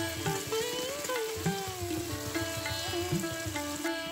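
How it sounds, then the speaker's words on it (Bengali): Potatoes fry in oil for a Bengali drumstick, potato and lentil-dumpling curry, giving a steady soft sizzle with faint clinks under a tonal background hum. "আলুগুলো দিয়ে একটু ভালো করে ভাজা ভাজা হয়ে যাবে"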